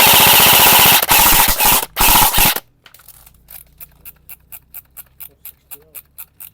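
An E&C airsoft AEG fires on full auto in one loud, sustained buzzing burst of about two and a half seconds, followed by a run of evenly spaced faint ticks.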